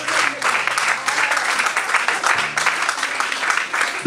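A church congregation applauding to acclaim the Lord fills the space with steady, loud clapping from many hands, sustained throughout without pause.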